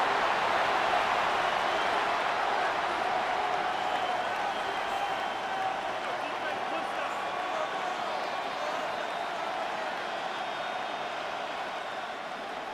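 A stadium crowd in the Madden 26 video game, at a Ravens vs Bills football match, roars in a broad, continuous wash of cheering that holds steady and fades slightly over several seconds, with no distinct voices on top.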